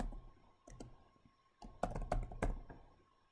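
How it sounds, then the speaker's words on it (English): Bursts of clicky keystrokes on a computer keyboard as a name is entered at a PowerShell terminal, irregular taps with pauses between words, close and moderately quiet with no talking. "I can type I don't know, Bugs Bunny."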